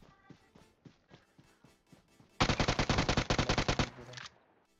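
Automatic gun spray in PUBG Mobile: a loud, rapid burst of gunfire lasting about a second and a half, preceded by quieter scattered shots and movement sounds.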